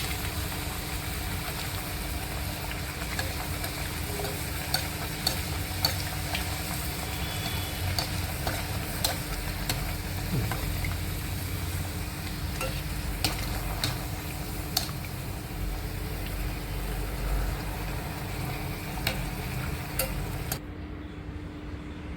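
Spinach puris deep-fry in oil with a steady, bubbling sizzle and scattered crackles, continuous and close before cutting off near the end.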